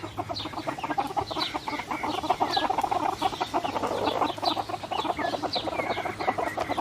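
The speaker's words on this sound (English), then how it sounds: "Where's all my little baby chickens?" A flock of baby chickens clucks and peeps continuously, many small overlapping calls close by, busy and chattering without pause.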